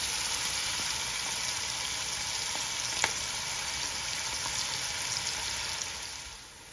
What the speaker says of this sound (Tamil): ஒரு லைட் கோல்டன் பிரவுன் வரைக்கும் நீங்க வதக்குனீங்கன்னா போதும்